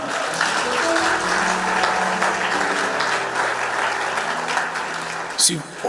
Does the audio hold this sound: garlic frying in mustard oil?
no